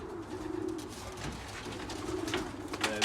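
Racing pigeons coo in a loft cabin, a steady low warbling murmur from several birds over a rustling, fluttering background. Occasional sharper calls and wing sounds rise near the end, close and moderately loud.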